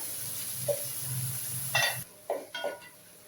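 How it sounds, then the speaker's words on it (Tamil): Onions sautéing in a pan for mutton dum biryani, a soft steady sizzle with a few spoon scrapes and metallic clinks against the vessel. The hiss drops away partway, leaving scattered utensil knocks. "அந்த அளவுக்கு நல்லா வதக்கி எடுத்துக்கோங்க வெங்காயத்தை"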